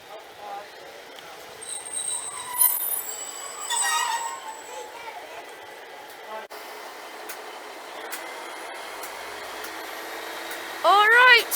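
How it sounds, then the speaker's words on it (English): A Great Western Railway train departing Liskeard station on the Looe line, heard as a low rolling rumble with wheel squeal and creaks rising toward the end, while voices and children can be heard nearby. "Departing now is the 11:36 Great Western Railway service to Looe."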